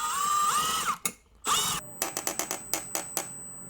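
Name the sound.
power drill assembling desk setup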